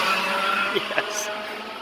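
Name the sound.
go-kart engine racing past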